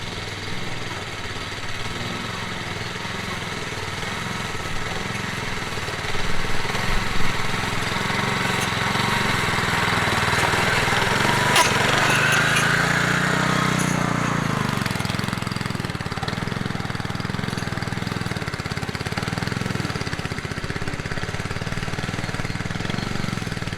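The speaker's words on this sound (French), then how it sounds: "la Mantis avec le kit émousseur, j'avais remonté avec un moteur Robin." Mantis tiller fitted with a dethatcher kit and a Robin engine scarifying a mossy, clay-heavy lawn: a steady mid-pitched engine drone runs throughout, swelling briefly as the tines bite, close by and without speech.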